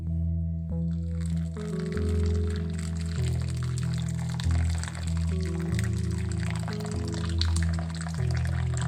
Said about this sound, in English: I am pouring this splitted milk into it.